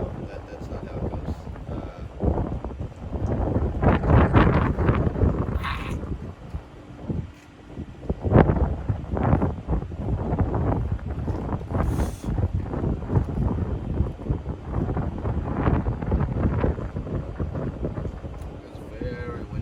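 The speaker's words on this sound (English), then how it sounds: "It's very windy. Very windy." Heavy wind gusts roar and buffet the microphone in loud bursts, with a voice talking intermittently underneath.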